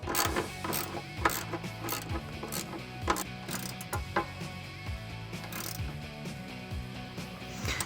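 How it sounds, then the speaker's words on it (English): A 13 mm ratchet tightening the running board bracket bolts on a 2019–2022 Silverado or Sierra 1500 gives steady, close clicking pawl bursts in rapid repeated strokes, with no talk. "I'm going to take my 13 millimeter. I'm going to tighten them up."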